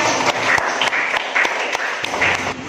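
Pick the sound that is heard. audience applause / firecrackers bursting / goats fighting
audience applause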